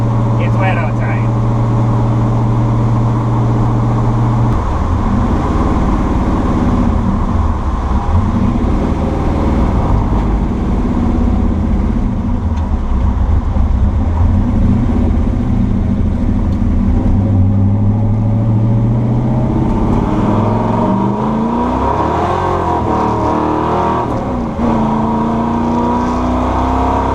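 A 1968 Ford F100 pickup with a small-block V8 drives on a wet day, its engine droning steadily and rising in pitch as it accelerates, loud and close throughout the clip.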